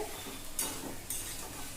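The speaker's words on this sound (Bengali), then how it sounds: "এইভাবে কচুলতিগুলো আস্তে আস্তে ভেজে নিয়েছি একদম মাখা মাখা হয়ে ভাজা হয়ে গেছে" Taro stolons (kochu loti) are fried in a pan with little spice, a faint, close sizzle broken by two quick stirring scrapes.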